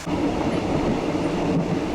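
Passenger train crossing from Nong Khai in Thailand to Vientiane in Laos, rolling steadily with a continuous close rumble and faint clatter of the carriages, loud and unbroken throughout with no voices.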